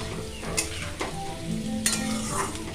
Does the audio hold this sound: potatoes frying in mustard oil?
yes